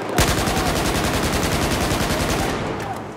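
Rapid automatic gunfire crackles through a Battlefield 4 match, a dense, loud stream of shots, with one sharp report near the start, that rattles on and then eases slightly toward the end.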